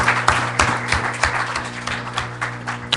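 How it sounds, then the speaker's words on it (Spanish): Applause from the audience at an environmental forest-conservation dialogue event, a steady round of clapping with scattered louder claps over a low hum, no speech over it. "me gustaría poder solicitar una nueva ronda de aplausos por su participación"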